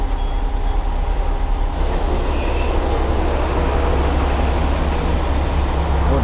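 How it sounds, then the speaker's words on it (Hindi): A rural Japanese train running on its tracks, heard from inside the carriage as a steady, loud rumble with sustained high wheel squeals near the start and midway, continuous throughout. "अब जैसे मैं इस ट्रेन के अंदर ट्रैवल कर रहा हूँ,"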